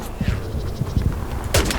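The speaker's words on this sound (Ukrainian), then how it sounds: "Вони там десь на пагорбах сидять, тільки стріляють, настрелюють і все" Gunfire in the Hell Let Loose war video game during a Skirmish match, with short bursts of rifle and machine-gun shots crackling at mid distance, ending in a louder close volley.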